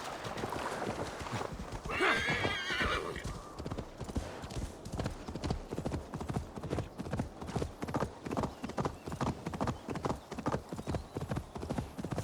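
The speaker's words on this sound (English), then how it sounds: "Suppose I can call the horse further downriver" Rapid rhythmic hoofbeats gallop steadily throughout, with a loud horse whinny early on, the sound close and clean like a game effect, from Assassin's Creed Valhalla.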